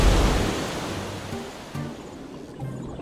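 Sea water rushes and crashes back over the Egyptian army, its chariots and horses, in a loud surge that fades into a steady roar with a couple of smaller swells.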